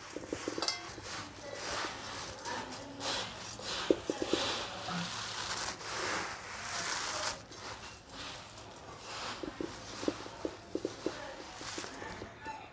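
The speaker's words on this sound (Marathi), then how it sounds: "मी हातानंच मिक्स करून घेते" Hands tossing and mixing crisp pani puri chivda in a metal bowl, producing soft rustling and scattered clinks against the dish, faint and close, with a voice talking now and then.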